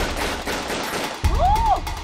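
A sharp gunshot cracks out in a dramatized film scene about a 1990s-era Korean army chief's arrest, followed by a whistling swoop over a dense background of rumble and commotion.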